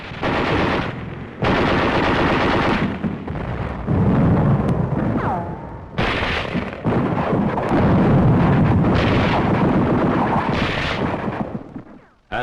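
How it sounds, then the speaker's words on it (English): Sustained gunfire and heavy weapons fire during a World War II attack near Bastogne, loud and continuous bursts with rumbling blasts filling the whole stretch, briefly pausing before resuming. "As the firing ceases"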